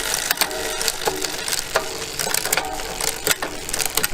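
Road bike derailleur gears clicking and ratcheting during adjustment, a quick run of close mechanical ticks and clacks from the chain and cogs with no talking.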